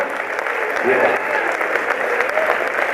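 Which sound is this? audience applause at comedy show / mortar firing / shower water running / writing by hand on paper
audience applause at comedy show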